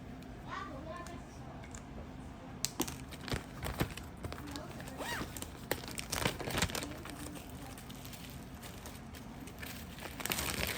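Soft plastic crinkling and rustling as small bags of basil leaves are packed into a larger plastic bag, coming in irregular bursts of handling noise against a quiet room.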